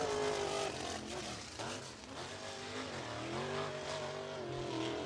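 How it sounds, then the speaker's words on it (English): A USAC sprint car at Lincoln Park Speedway during the Bill Gardner Sprintacular, its engine roaring loud and close with shifting pitch as it runs the track, a continuous howl throughout. "James Boyd onto the speedway"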